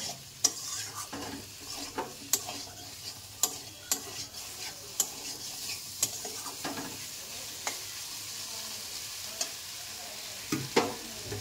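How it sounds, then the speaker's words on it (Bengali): Chopped tomato frying in a pan, stirred with a utensil: sharp scraping clicks strike at irregular intervals over a steady, fairly quiet sizzle. "টমেটো দিয়ে আরেকটু ভেজে নেব।"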